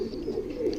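Pigeons coo in a soft, steady warble nearby, a low throaty murmur with no speech.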